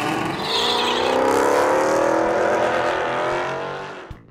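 Drag racing car roaring past at a drag strip, its engine note rising loudly and sweeping by up close before fading, ending with a brief thump.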